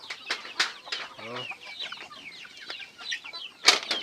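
Chickens on a backyard farm cluck and chatter nearby in short overlapping calls, with a brief murmured voice and a sharp rustle near the end.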